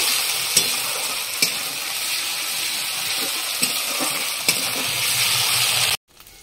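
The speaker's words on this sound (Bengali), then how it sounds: "অর্ধেকটা রসুন দিয়ে দিলাম, আর এখানে আছে জিরা, তেজপাতা, আর হলো গোলমরিচ। বাকি একটা সুন্দর করে তেলে নেব।" Garlic, cumin, bay leaf and black pepper frying in hot oil, a bright steady sizzle with a few sharp stirring knocks, close up, cutting off abruptly near the end.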